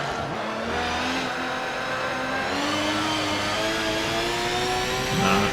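A race car in Forza 7 engine-braking with a stick shift. The engine note drops and climbs again through gear changes in a loud, continuous drone, with no talk over it.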